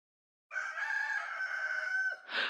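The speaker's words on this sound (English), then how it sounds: "It sounds like a rooster." A single rooster crows alone in silence, one long, fairly clear cock-a-doodle-doo lasting nearly two seconds, followed by a short rough burst at the end.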